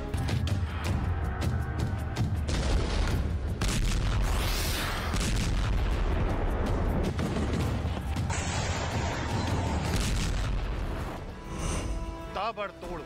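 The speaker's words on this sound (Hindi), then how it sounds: "जोरदार धमाके" Heavy booms and blasts roll through a dense, chaotic mix of loud impacts and rumble, with a voice speaking over the din.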